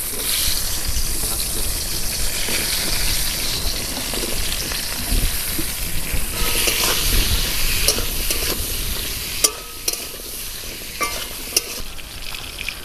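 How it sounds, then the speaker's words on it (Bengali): Potatoes and pointed gourd frying together in hot oil in a village kitchen, a loud continuous sizzle with stirring scrapes, later some splashing water and sharp clinks near the end, no talking. "একই তেলের মধ্যে আলু আর পটলটা ভালো করে ভেজে নেব।"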